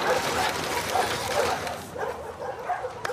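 A dog in The Last of Us Part II gives excited, whimpering yips and short barks at close range in an indoor scene.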